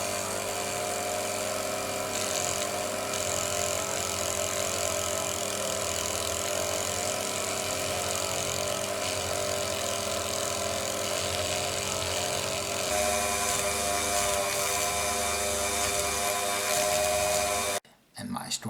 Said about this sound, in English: I will use my Dremel tool with this cotton, and I have put some polish wax for stainless steel on